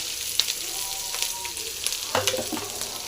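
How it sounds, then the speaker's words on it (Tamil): Small onions (shallots) fry in a pan with crushed garlic and dried fish, a steady close sizzle with occasional sharper crackles and a cluster of stirring scrapes toward the end. "சின்ன வெங்காயம் போட்டு நல்லா ஃப்ரை ஆகுதுங்க"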